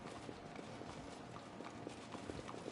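Horse hooves clop in a rapid, steady galloping rhythm in the Pathfinder video game, faint and continuous with no talk over them.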